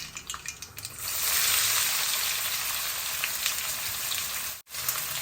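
Onions frying in a pan for a beans and tomato curry give a steady, loud broadband sizzle that jumps up after the first second and holds, with a brief drop near the end.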